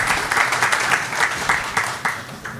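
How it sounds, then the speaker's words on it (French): An audience claps at an investor day event, a steady crowd applause with dense overlapping hand claps swelling and easing in waves. "Des applaudissements."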